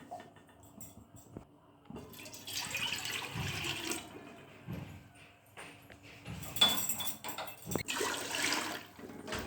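Four glasses of water poured into a cooking pot for kheer, a splashing, gushing pour that comes in two bursts with quieter clinks and handling between them, close by and without talk.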